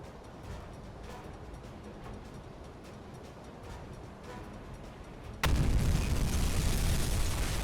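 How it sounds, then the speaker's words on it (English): Torpedo striking a ship in the Uboat submarine game: after several seconds of low ambient rumble, a sudden loud broadband blast erupts and sustains as a heavy roaring impact. "Bang! Another good hit with a torpedo there."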